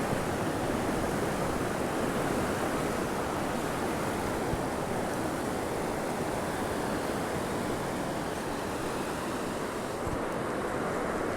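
A steady wash of sea waves rolls onto the deserted shore of Dhani Nallah beach, North Andaman, a constant full-bodied rushing that stays loud throughout, mixed with wind and free of voices.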